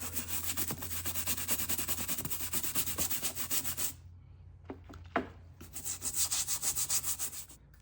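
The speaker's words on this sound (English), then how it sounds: "I got a pretty soft brush too, so it looks like I'm scrubbing pretty hard and just ripping this leather apart" A soft-bristle brush scrubbing worn leather boots with fast, rhythmic, rasping back-and-forth strokes, close and steady, pausing briefly before resuming.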